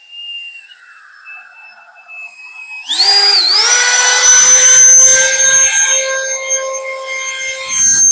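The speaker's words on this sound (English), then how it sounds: "I am so impressed by the power of this little handheld blower" A small cordless handheld leaf blower runs up to its turbo setting, a quieter whirring whine rising abruptly into a loud, sustained high-pitched motor roar with tonal harmonics, close and continuous.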